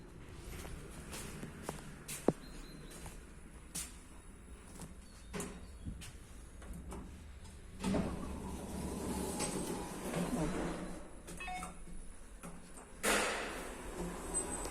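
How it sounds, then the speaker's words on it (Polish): A panoramic Pilawa elevator from 2011 in a Kraków building runs with a low steady hum and rumble, broken by scattered clicks, knocks and mechanical thumps, with a louder clunk near the end. "To jest winda Pilawa z roku 2011. Panoramiczna."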